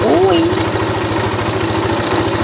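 Motorcycle engine idling during a three-phase stator coil check on a Thunder motorbike, a steady, loud, close mechanical drone with rapid regular firing pulses throughout.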